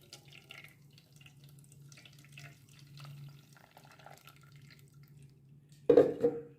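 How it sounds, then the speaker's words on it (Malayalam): Blended cucumber and ginger juice poured through a strainer into a vessel gives a short, loud splashing gush right at the end, after a stretch of quiet low hum. "ഈ പാത്രത്തിലേക്ക് ഒഴിച്ച് ഒന്ന് അരിച്ചെടുക്കാം"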